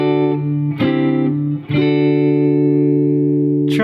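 Electric guitar strumming sustained chords with distortion and effects, played as triads; loud, close, with a few chord changes ringing out and no talking.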